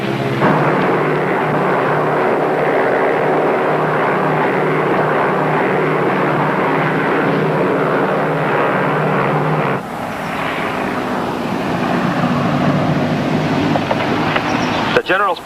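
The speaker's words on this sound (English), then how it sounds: "plane has just passed" A propeller airplane, a U.S. military plane, roars loud and steady for about ten seconds, then its engine note shifts and fades as it passes by. Voices speak over the engine throughout.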